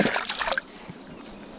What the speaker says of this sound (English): I'll give this a quick rinse too.